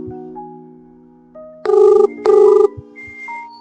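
Telephone ringing in a comedy sketch: two loud, steady electronic ring bursts of about half a second each, separated by a short gap, with quiet tones before and after.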